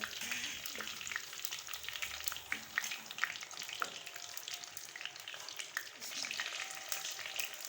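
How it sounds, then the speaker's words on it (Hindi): Chicken pieces fry in a karahi with curry leaves in hot oil, giving a steady close sizzle with crackles and spits, fairly quiet and with no one talking. "अब जो हम इसमें चिकन को शामिल करेंगे।"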